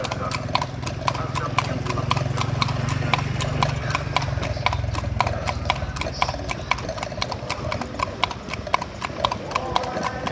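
Hooves of a horse pulling a bendi carriage from Pasar Padang toward Taplau clop in a steady, close, even rhythm throughout, under a low engine-like rumble and people talking.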